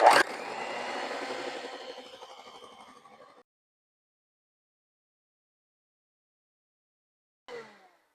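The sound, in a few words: mixer whipping cream while adding gelatin mixture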